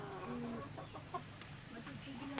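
Chickens cluck and squawk close by, short calls scattered over a steady murmur of outdoor background noise.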